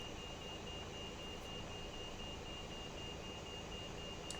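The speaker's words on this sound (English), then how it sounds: "There's an alarm going off." A steady high-pitched tone from a cockpit alarm in an Airbus A320 in the X-Plane 11 flight simulator game sounds continuously and faintly over a constant low cabin hum.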